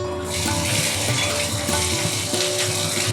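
Ginger paste goes into lightly browned grated coconut frying in a pan while a kohlrabi dish is cooked, giving a loud, steady, continuous sizzle with a faint tonal hum beneath it.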